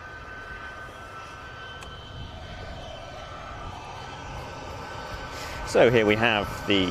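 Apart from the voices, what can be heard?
Emirati C-17 aircraft taxiing at air show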